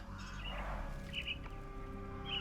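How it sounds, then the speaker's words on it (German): Caged myna birds chirp in a Sherlock Holmes video game, a few faint, brief high calls over a low steady ambient hum. "Minor birds, if I'm not mistaken. Beautiful creatures. How sad that they're caged here."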